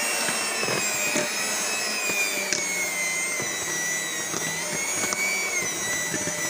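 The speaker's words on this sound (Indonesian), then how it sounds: "Mixer semua bahan ya." Electric hand mixer beating cake batter for crunchy donut-style sponge cake after sifted dry ingredients go in, a continuous high whirring motor hum with faint scraping bumps against the bowl, close and steady with no talking.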